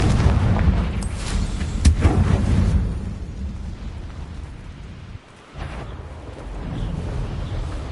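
Confringo fire spell explosions in the Hogwarts Legacy video game: loud booming blasts with sharp cracks early on, rolling into a long, heavy rumble that briefly drops out and then swells again.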